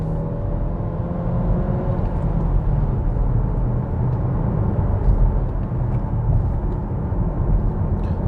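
A 2022 Nissan Qashqai in Sport mode gives a steady, loud interior drone of engine, tyre and road rumble that holds even throughout without clear revving peaks.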